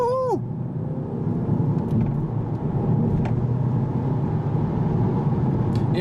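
A 2015 Audi TT driven on country roads, its engine and road noise forming a steady, loud rumble throughout, with a brief chirp at the start and a voice talking over it.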